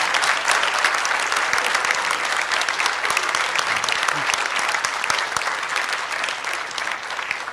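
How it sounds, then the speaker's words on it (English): Sustained, loud audience applause at a lecture event, dense clapping filling the room for several seconds with a faint crowd murmur beneath. "Who wanted to applaud?"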